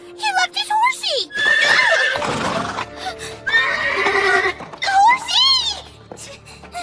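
A horse neighs and whinnies loudly several times at close range in an animated fantasy dub, with shrill rising and falling calls, mixed with dramatic vocal sounds.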